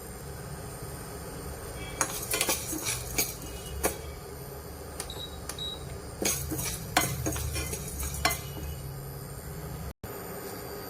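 Chana dal dry-roasts in a pan without oil, heard as a rapid series of metallic scrapes and rattling clinks as a spoon stirs the lentils, close, in irregular bursts with short pauses.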